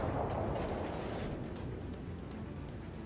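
Naval guns fire in a warship video game, shots aimed at the battleship Scharnhorst: a heavy, sustained booming roar that rises at the start and slowly rolls off into a low rumble.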